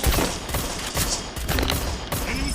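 In a battle-royale shooter match, a sniper rifle fires, and the gunfire comes as several sharp, loud cracks in quick succession over a busy game background.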